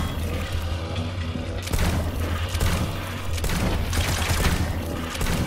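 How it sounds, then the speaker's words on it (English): Shotgun fire in the mobile shooter Shadowgun Legends: loud, dense booming blasts over a constant roar of battle noise, heavier from partway through, with no voices. "Alright, let's try the shotgun."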